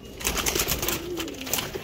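A Cheena pigeon coos close by, a soft, low, drawn-out call that rises and falls over a couple of seconds against a faint outdoor background.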